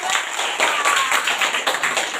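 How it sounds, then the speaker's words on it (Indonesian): A school class gives a round of applause, fast dense clapping from many hands close by, lively and continuous, with some voices mixed in. "tepuk tangan yang meriah"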